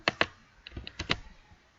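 Keys tapped on a computer keyboard while entering values into SPSS statistics software, a few quick distinct clicks in a short burst and then a softer pair, close and fairly quiet with no talk.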